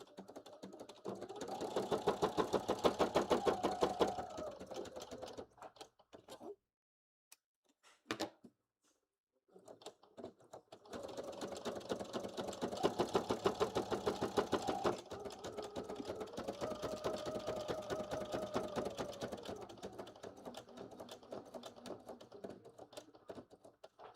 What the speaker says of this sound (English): time to sew these pockets on